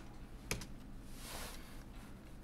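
Keys clack on a computer keyboard as the MTEXT command is typed in AutoCAD, one sharp click near the start and softer taps after, faint and close, with no talk.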